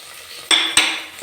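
A spoon knocks against a pan while masala for a green peas curry is stirred, two sharp metallic clinks ringing briefly over a faint sizzle.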